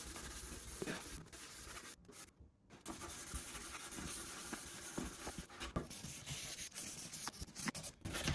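Quiet, irregular rubbing and scraping as an acrylic turntable dust cover is wet-sanded by hand with high-grit sandpaper, with short strokes and a brief pause partway through.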